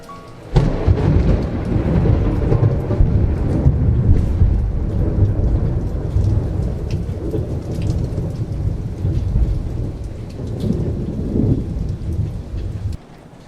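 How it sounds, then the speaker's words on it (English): A heavy thunderstorm over the ocean: dense, steady rain roars close by with deep rolling thunder rumbling underneath, sustained loudly throughout before ending abruptly. "I felt enveloped in that storm as it continued even the entire next day, with lightning over the ocean and an oppressive darkness."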